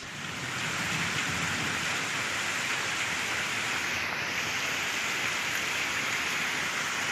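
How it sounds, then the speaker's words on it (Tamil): Heavy rain driven by strong wind pours down in Tamil Nadu, a loud, dense, unbroken hiss that fills the whole stretch without letup. "பலத்த காற்றுடன் சுமார் அரை மணி நேரத்திற்கு மேலாக பொழிந்த கனமழையால் சாலைகளில் மழைநீர் வெள்ளம் போல் பெருக்கெடுத்து ஓடியது"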